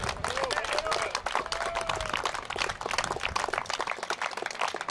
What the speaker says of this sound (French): Une bonne main d'applaudissement, François Saint-Louis.